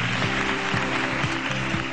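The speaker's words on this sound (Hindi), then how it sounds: "सबसे पहले पाकिस्तान के लिए बहुत सारी तालियां, क्योंकि कल क्या कमाल का मैच हम जीते" A studio audience on a Pakistani morning show applauds Pakistan's cricket win, sustained even clapping over a low musical bed with a regular beat.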